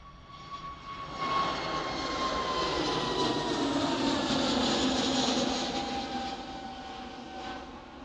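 A Singapore Airlines Airbus A380 jet airliner departs Manchester Airport. Its loud, steady jet roar swells after the first second and holds, with a whining tone riding on top, and no voices.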